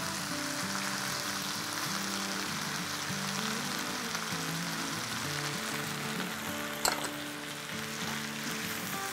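Yogurt and fried onions sizzle steadily in hot oil in a pot while chicken pulao is being cooked, a dense, continuous frying hiss throughout with one brief sharper clatter near the end.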